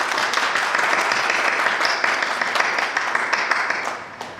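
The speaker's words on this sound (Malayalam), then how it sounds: "നമുക്ക് നല്ലൊരു കയ്യടി കൊടുക്കാം." Applause from the audience at the St. Peter's High School, Kurumbanadam SSLC batch gathering: a loud, dense, steady wash of clapping that runs the whole time and fades slightly at the end.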